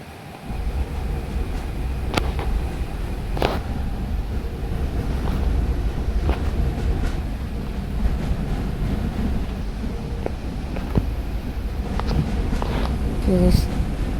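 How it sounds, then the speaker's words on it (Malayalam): A train running in the Indian Bike 3D video game gives a steady, loud rumble with wind-like rushing noise and occasional sharp clanks throughout, with a voice briefly heard in the background. "നമ്മളിപ്പോൾ ട്രെയിൻ ഓടിക്കാൻ പോവുകയാണ്"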